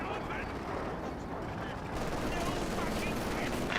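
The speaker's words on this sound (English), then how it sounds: "Panzer is getting hit by the MG42, the captured one." A captured MG42 machine gun fires in Company of Heroes 2, a continuous rattling barrage that grows slightly louder partway through, heard under faint battle noise.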